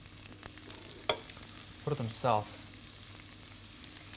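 Champignon mushrooms frying in olive oil with garlic in a pan give a soft, low sizzle. Brief stirring scrapes rise above it near the middle, and a voice speaks quietly.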